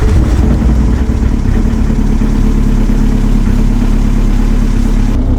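A Toyota truck with a swapped TDI diesel engine rolls into a shop, its steady low engine rumble loud and close throughout, with no clear revving.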